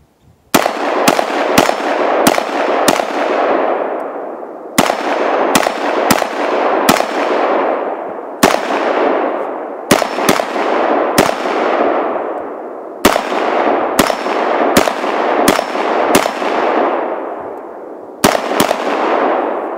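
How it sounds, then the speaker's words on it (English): An M4 rifle fires in rapid strings of loud, close shots at steel targets, the sharp cracks coming in bursts of three to five with ringing decays and brief pauses between groups. "we're going to start out with an M4. We're going to put steel on target."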